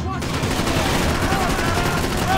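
Gunfire in the video game Max Payne 3, with dense overlapping shots crackling through steady game noise for a couple of seconds, close and loud.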